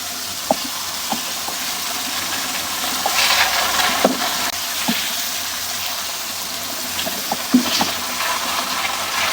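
A whole chicken cooks in ghee and spice masala with a bubbling, hissing fry. Sharp spatula taps and stirring knocks recur every second or so at close range.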